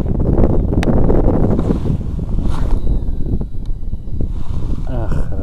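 Strong gusts buffet the microphone while a spinning-reel fishing rig is cast against the wind with a new Shimano lure reel, a rough, rumbling roar that swells and dips throughout, near and loud.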